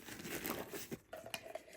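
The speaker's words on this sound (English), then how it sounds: "I also have a small pair of scissors, and I have an extra plastic bag," A plastic Ziploc bag crinkles and rustles softly up close, short papery crackles in quick bursts, quiet and alone.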